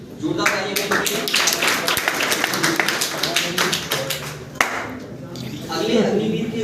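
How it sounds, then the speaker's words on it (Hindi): Crowd clapping at a ceremony honouring selected army recruits, a burst of dense applause running under an announcer's voice, fading and swelling again toward the end. "जोरदार तालियां के लिए।"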